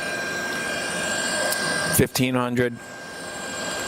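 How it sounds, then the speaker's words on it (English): The main spindle of a 2007 Citizen M32V CNC Swiss lathe runs with a steady, high-pitched mechanical whine, briefly interrupted by a short spoken word before the hum settles back. "We're going to run it now. Do the main spindle first."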